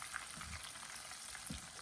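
Tempering for a pickle frying in oil, a faint, steady low sizzle with soft stirring, no talk.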